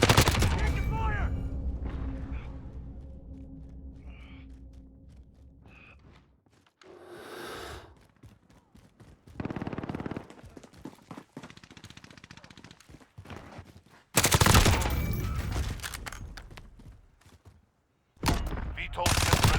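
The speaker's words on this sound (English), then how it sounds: "Taking fire!" Bursts of automatic gunfire from a Call of Duty Hardpoint match on the Atlas Superstore map, loud rattling volleys separated by quieter stretches, with in-game radio voices heard between the shots.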